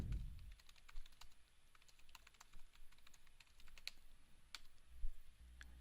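Someone types text on a computer keyboard in short, irregular bursts of close, crisp key clicks with pauses between them, no voices.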